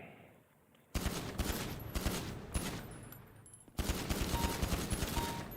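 Automatic Glock 18 fire in a video game: sustained rapid bursts of shots after a quiet start, with a brief lull before another long burst, loud and close, with no voices over it.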